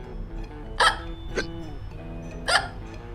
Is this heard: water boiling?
no